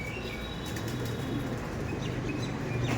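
Andhra Madras pigeons, a Lambadi pair, coo in low throaty murmurs close by, a continuous soft rumble with faint fluttering and background noise.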